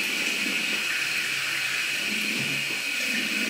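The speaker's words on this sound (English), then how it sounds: "So you gotta add water." Tap water runs steadily into a sink during face washing, a continuous close hiss with no pauses across the whole stretch.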